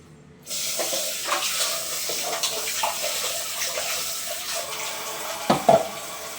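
Water pours and splashes steadily as broken aloe vera pieces are rinsed by hand in a basin at home, with occasional louder sloshes near the end and no talking.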